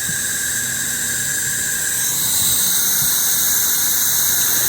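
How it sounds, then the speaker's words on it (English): A steam locomotive's coal-fired blower gives a loud, steady roaring hiss with a high whine throughout, rising slightly in strength partway through, with no voices. "In this section, you can really hear the blower going."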